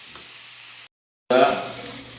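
Vegetables with salt and onion frying in a pan give a soft sizzle, then a brief silence, then a loud burst of hissing that gradually fades.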